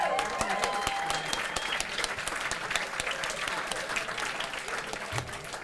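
An audience at a wedding celebration applauds warmly in a dense, steady burst of clapping that carries on throughout at an even level.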